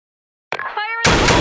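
Grenade explosion in the shooter game Blackshot: after silence, a short tonal cue rises, then a sudden loud, broad blast hits near and fills the end of the clip.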